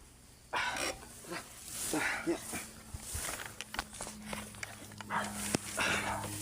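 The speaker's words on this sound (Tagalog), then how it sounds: "Ay, may aso." A rabid dog whimpers and moves about nearby, with scuffling footsteps, brief yelps, and a low hum in the background.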